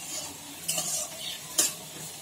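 Food stirred in a hot pan in a home kitchen, soft continuous sizzle with two brief scraping stirs of a utensil against the pan, close and fairly quiet with no talking.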